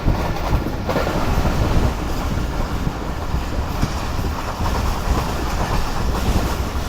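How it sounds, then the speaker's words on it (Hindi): Jaffer Express passenger train hauled by a Chinese locomotive running at speed on straight track, a loud continuous rumble of wheels and rail with a steady clickety-clack and rushing wind noise throughout, no talking. "तो कुछ इस तरह की स्पीड में ट्रेन आगे जा रही है"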